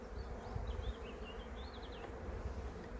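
Honey bee swarm being moved into a hive, a steady close buzzing hum of many bees with a few brief higher whines drifting over it, no voices.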